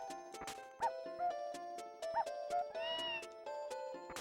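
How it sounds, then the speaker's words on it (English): A bush baby creature in the Tales of Phantasia video game gives two short, meow-like cries, each quickly repeated, over steady tonal game music with soft chiming notes. "What do bush babies sound like?"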